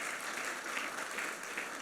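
A church congregation applauding during a worship service, a brief, dense wash of clapping at moderate volume, fairly distant and reverberant.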